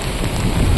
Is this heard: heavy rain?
yes